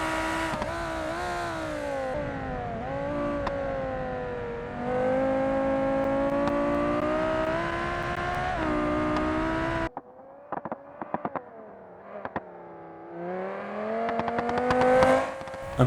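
Racing version of the Scintilla car in BeamNG, engine droning and revving in steady harmonic tones, swelling louder midway, then dropping back to a lower idle with brief throttle blips before climbing again.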